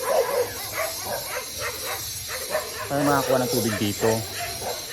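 Several dogs bark and yip in short bursts at a distance while a person talks over them outdoors.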